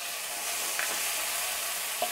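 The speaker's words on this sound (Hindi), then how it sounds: "इसको कुछ सेकंड के लिए हम फ्राई कर लेंगे।" Ginger garlic paste fries with golden-browned onions in a pan, a brief close sizzle with a couple of small stirring clicks.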